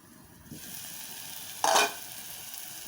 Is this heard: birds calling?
no